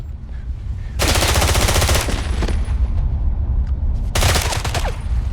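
Two loud bursts of rapid automatic gunfire from the 007: Blood Stone video game, each lasting about a second, separated by a lull of softer background rumble and scattered noise.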